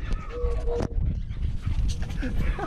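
A dog barks in short yips in a backyard shared by a pit bull terrier and Siberian huskies, close by and mixed with a person talking over it.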